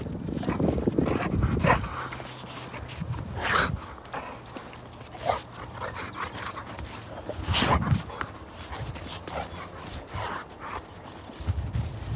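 An Akita dog moves and makes small sounds near a pit bull during a first meeting, with soft whimpers and scuffling, while a person talks nearby.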